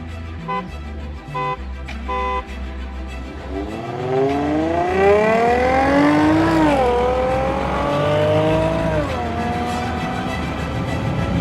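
Two Range Rover Sport models, one supercharged and one turbocharged, line up for a drag race: engines idle and blip, then roar hard as they launch and climb through the gears, loud and sustained.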